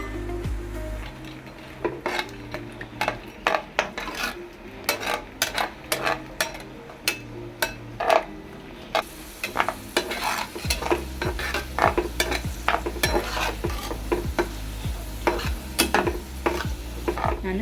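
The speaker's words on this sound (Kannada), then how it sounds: "ಡ್ರೈ ಫ್ರೂಟ್ಸ್ ಹಾಕ್ಕೊತಾ ಇದ್ದೀನಿ" Dry fruits sizzling in hot ghee in a pan, stirred with a spoon that scrapes and clinks against the metal in quick repeated strokes, close and fairly loud over steady background music.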